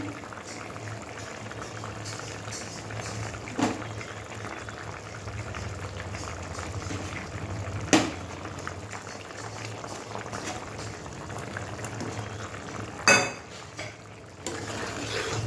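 Fish simmering in a boiling curry in a pot, a steady close bubbling hiss with a few sharp clinks of a utensil against the pan.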